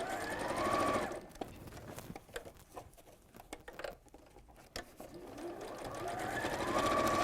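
A sewing machine stitches a fabric bag in loud bursts at the start and again at the end, with quieter handling and shuffling of the fabric during the pause between.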